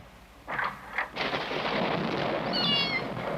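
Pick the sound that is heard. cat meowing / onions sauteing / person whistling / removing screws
cat meowing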